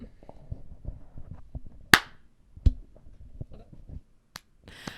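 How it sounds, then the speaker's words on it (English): A single sharp hand clap to mark a sync point for a recording, standing out clearly against low background murmur and small knocks. "Do you want to clap so we know where we're at?"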